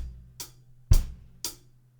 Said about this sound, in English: So it's just 8th note hi-hats with quarter note bass drums to begin